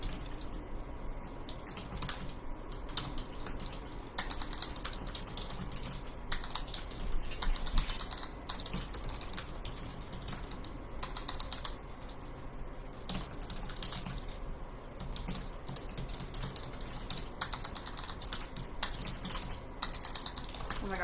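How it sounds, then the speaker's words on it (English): Rapid, steady clicking of fingers typing a quick comment on a computer keyboard, close and continuous with brief pauses, over a constant low background hum. "I'm gonna type a quick comment on here"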